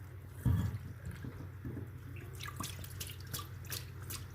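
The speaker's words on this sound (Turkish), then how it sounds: "Ben bir de şimdi çamaşır suyu dökeceğim." Liquid bleach pours and trickles into the heat exchanger of a combi boiler, a soft continuous watery splashing with a brief heavier gush at the start, close and moderately quiet.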